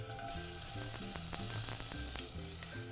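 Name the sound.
Spanish onion sweating in olive oil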